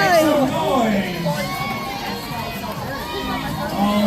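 A crowd at Gatorland yelling and cheering, with children's shouts and overlapping voices rising and falling in a lively, continuous roar.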